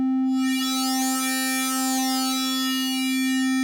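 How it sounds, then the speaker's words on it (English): An Arturia PolyBrute synthesizer sustains a steady bright tone with its metalizer applied to the triangle wave, rich in shimmering upper harmonics that sweep gently, heard alone without talk. "But we then have this metalizer. So by default, it only works on the triangle."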